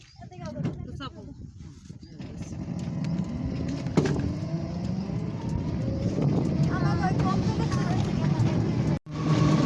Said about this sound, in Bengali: অবশেষে অটো এসে গেছে এখন আমি অটোতে উঠব